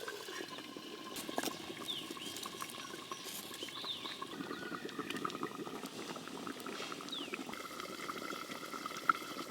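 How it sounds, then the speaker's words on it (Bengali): A Bengali katla fish curry bubbles in a pan, with a dense, steady boiling patter and small liquid pops close by, quiet and continuous with no one speaking. "ঝোল খুব ভালো করে ফুটে গেছে, লবণ হলুদ আর লেবু মাখানো কাতলা মাছগুলো দিয়ে দেবো এবার।"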